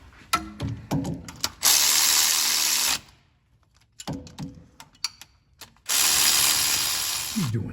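Bursts of ratchet clicking as bolts are tightened while refitting the crankshaft and camshaft sensors on a 2000 Camaro, with two long continuous runs of fast clicks separated by short tool clatter and handling noises.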